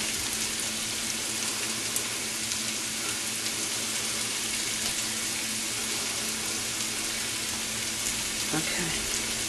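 Hands rinsed under a running kitchen tap while making salmon cakes, a steady, close rush of water that holds evenly throughout with no talk over it.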